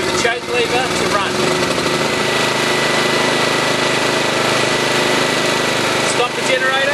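A 909 Tools G2300KU portable generator engine runs after a key start, giving a loud, close, steady buzzing drone with a rough mechanical rattle that holds throughout.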